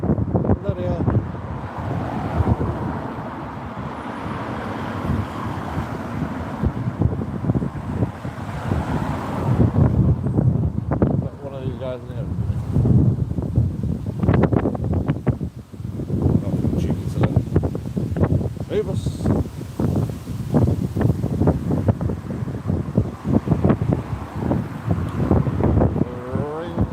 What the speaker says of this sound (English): And the wind.